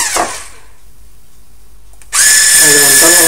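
An electric hand mixer whips egg whites with sugar to stiff peaks for a gluten-free rolled sponge cake. A quiet pause, then the motor switches on abruptly with a loud, steady, high whine that holds to the end.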